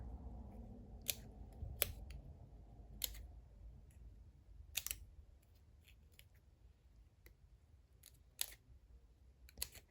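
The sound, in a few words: scissors cutting paper for layered flowers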